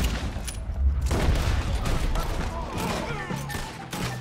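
Rapid gunfire from the Red Dead Redemption 2 video game rings out in a dense, continuous volley of loud shots and crashes, with faint talk in the background.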